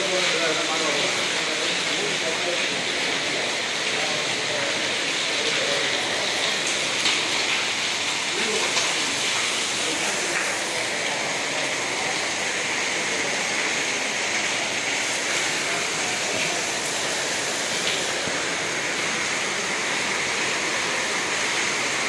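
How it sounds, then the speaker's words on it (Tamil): Heavy rain pours without a break at an ashram in Kanchipuram, a dense, loud, even hiss that never lets up. "மழை விடாமல் விழுந்துருக்கு."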